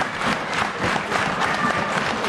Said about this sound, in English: These idiots clapping, Coco's done.